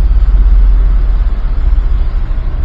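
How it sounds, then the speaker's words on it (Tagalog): Heavy road traffic on a service road, with loud, constant low engine rumble from passing cars, trucks and buses close by, throbbing and unbroken. "Ang traffic sobra"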